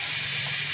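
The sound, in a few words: steam hissing from dal boiling in a pot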